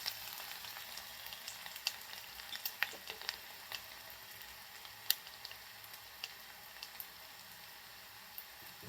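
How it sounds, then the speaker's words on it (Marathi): Onion frying in a pan until golden, for a spicy green-chilli kharvang dish: a faint, steady sizzle with scattered small crackles and pops throughout, no voices. "सोनेरी कलरवरती आपल्याला हा कांदा भाजून घ्यायचा आहे, मस्त असा गोल्डन कलरवरती"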